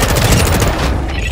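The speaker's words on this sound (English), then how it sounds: "Friendly airstrike on the way." Call of Duty Warzone 2.0 airstrike explosions rumble in a loud, dense barrage of booms and blasts that fades slightly toward the end of the short burst.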